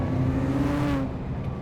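A Vauxhall Holden Monaro with an LS1 V8 engine revs up close, a loud rising growl that eases off partway through, with no talking.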